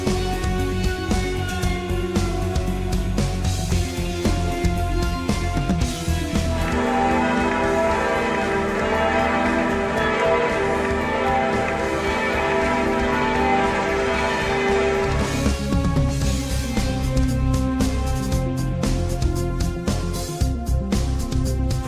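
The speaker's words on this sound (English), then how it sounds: "If you go to Germany, I hope you don't mind the sound of bells." Church bells ring in Germany, a steady, loud peal of overlapping metallic tones sustained throughout with little pause.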